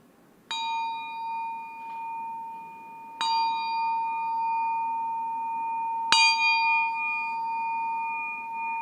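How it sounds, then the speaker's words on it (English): A meditation chime is struck three times, each strike ringing out clear and sustained with a long, overlapping decay in a quiet room, with no talking. "staying with your breath and breathing through the end of the chime"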